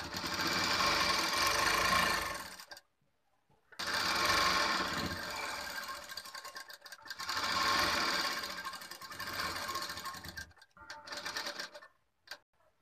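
A sewing machine stitches the side seam of a blouse in three bursts of fast, rhythmic whirring, each broken by short pauses, then a few brief stuttering runs at the end.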